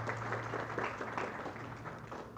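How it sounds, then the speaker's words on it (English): Applause for a state minister at a dialogue on economic recovery, a soft, steady patter of clapping from a crowd that sounds a little distant. "Another round of applause, ladies and gentlemen"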